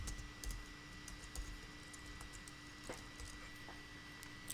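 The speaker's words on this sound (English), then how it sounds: "we're just going to be typing in the command to get this started" Someone types a network command on a computer keyboard, producing scattered quick key clicks, close and moderately soft over a steady electrical hum.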